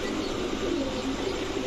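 A pair of silver pigeons coos close by, soft low throaty murmurs running continuously over a steady background hiss, with no speech.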